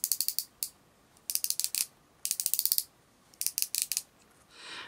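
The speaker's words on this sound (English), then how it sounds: "for those of you who like to hear the click," Ratcheting clicks from a joint of a Super Robot Chogokin Mazinger Z die-cast figure: close, crisp bursts of rapid clicks in several separate runs, with short pauses between them and no voices.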